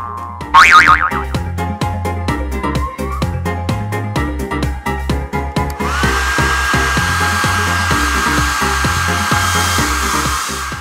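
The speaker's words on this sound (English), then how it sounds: "then with the hair dryer for a better style" A steady hair dryer whirs loudly and continuously in the second half, after a stretch of rhythmic music with a springy boing near the start.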